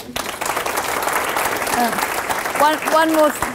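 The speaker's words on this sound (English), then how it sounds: "if we have one final round of applause for Athena" Final round of applause for Dr Athena Vongalis-MacRow at a talk on developing talented women, with a crowd clapping steadily throughout and a few voices calling out over the clapping near the end.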